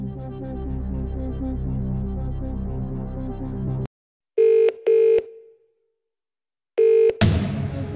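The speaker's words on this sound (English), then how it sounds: "Right, you've decided to phone a friend, but who do you think will know the answer to this one?" In a Who Wants to Be a Millionaire video game, game music stops abruptly, then a phone a friend call rings out in three short electronic telephone bursts separated by silence, followed by a rising swoosh.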